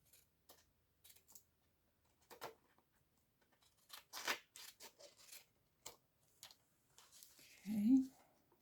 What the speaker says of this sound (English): So we're just going to cut.